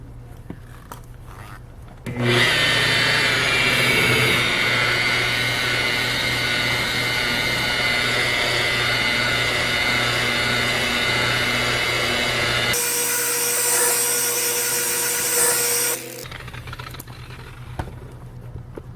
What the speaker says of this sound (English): if you are polishing long enough with tape in place, you will literally polish an edge to where the tape is